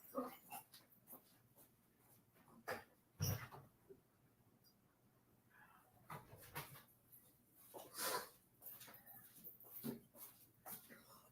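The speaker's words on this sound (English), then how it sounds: "I got to let these dogs out" Dogs pant, whimper and scuffle in short bursts with quiet gaps as they are let outside, their movement close and uneven.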